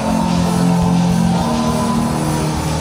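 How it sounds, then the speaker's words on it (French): A worship congregation shouts and cheers for joy in a loud, continuous, crowded roar of overlapping voices with no pause. "Pousse des cris de joie."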